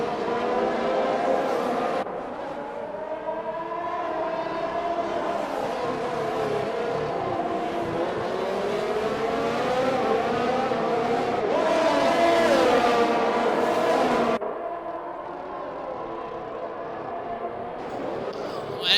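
Race cars lapping the Bahrain circuit in a racing video game, McLarens among them, give a steady, loud engine drone with shifting revs that drops in level near the end.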